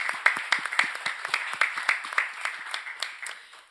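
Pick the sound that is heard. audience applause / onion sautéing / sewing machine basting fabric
audience applause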